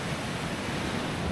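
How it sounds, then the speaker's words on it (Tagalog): Strong ocean waves on the West Philippine Sea shore beside a campsite, a continuous broad wash of surf heard steadily and fairly faint with no voices. "Kaya naririnig po yung mga alon."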